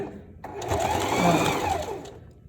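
A sewing machine stitches a zigzag seam on a stripper one-piece outfit, running in one steady whirring burst of about one and a half seconds, close and loud, starting and stopping abruptly.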